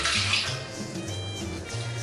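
Warm water pours steadily from a container into a bowl for arepa dough, a brief, close, continuous splashing trickle with no talk.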